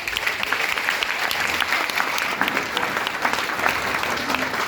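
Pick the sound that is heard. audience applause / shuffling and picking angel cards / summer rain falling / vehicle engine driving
audience applause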